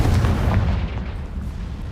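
Confringo fire-blast spell detonating in Hogwarts Legacy, a deep booming blast with rumbling low end that stays loud and sustained across the whole moment, fading slightly toward the end.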